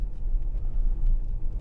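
Low road rumble and tyre roar heard from inside a 2010 Audi Q7 3.0 TDI S line quattro riding on 21-inch tyres, a steady muffled drone at moderate level with no voices.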